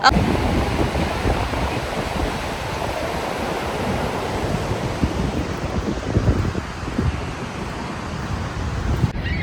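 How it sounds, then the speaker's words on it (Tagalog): The Horseshoe Falls at Niagara Falls, seen from the US side, sends up a loud and steady broadband roar of falling water mixed with rushing wind on the microphone, with no clear voices. "Ito yung Horseshoe Falls."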